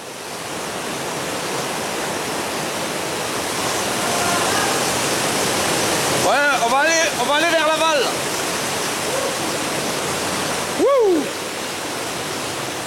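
Underground river rushing through a cave around 100 metres deep, a loud, dense, unbroken roar of fast water filling the whole clip, with a person speaking and whooping briefly over it.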